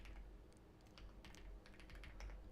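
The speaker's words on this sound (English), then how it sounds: "My typing is off today." Fast bursts of typing on a computer keyboard during Linux programming work, with uneven clusters of light key clicks separated by short pauses, close but quiet, and nobody speaking.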